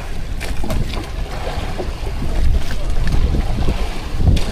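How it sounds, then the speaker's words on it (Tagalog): Strong wind buffets a small fishing boat out at sea, a loud continuous roar of gusts and microphone wind noise with sloshing water and knocks beneath it. "Malakas ang hangin."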